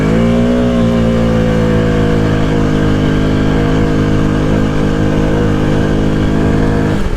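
A 2023 Arctic Cat Mudpro 600 ATV accelerates hard in high gear, its engine roaring loud and close as the pitch climbs steadily, then cuts off abruptly at the end.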